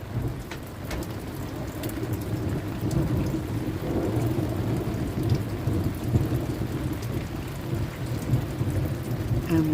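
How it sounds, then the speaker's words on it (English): Steady rain with rumbling thunder during a night storm near Mt Barker, a continuous dense wash of rainfall and low rolling rumbles filling the whole stretch, close and fairly loud, with no voices. "we still have the rain and the thunder and the lightning"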